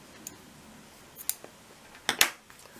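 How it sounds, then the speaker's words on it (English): Scissors snip through crochet yarn, a few sharp, brief cuts scattered across a quiet background, with the louder double snip near the end. "cut the yarn and pull."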